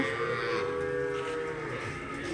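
A cow lows loudly and close by with one sustained, droning moo that fills the whole stretch, heard over steady barn ambience with no talking.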